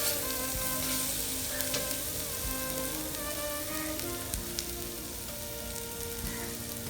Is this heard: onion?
yes